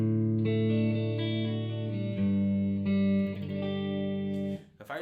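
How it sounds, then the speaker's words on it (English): Sustained, effected guitar chords ring out one after another in a slow progression, wet with chorus and reverb, ending in a brief scrape. "If I take a simple chord progression, sounds something like this."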